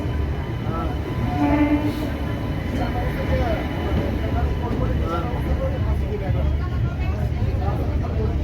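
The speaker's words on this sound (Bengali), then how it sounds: "এবার আমাদের ট্রেন স্পিড তুলে দিয়েছে।" From aboard the Shantiniketan Express on the way from Kolkata, the train rumbles steadily at speed on the rails with a continuous low roar and rattle, while people talk over it.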